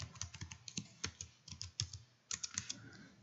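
Quick, irregular bursts of typing on a computer keyboard, soft close clicks and clacks in uneven flurries with brief pauses, no talk over them.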